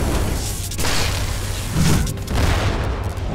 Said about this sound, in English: It's harder to avoid the gunshot.